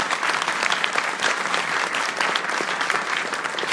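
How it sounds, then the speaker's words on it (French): Dense, steady applause from an audience at a political campaign meeting, many hands clapping together at a close, even level throughout with no voices standing out. "On peut l'applaudir aussi."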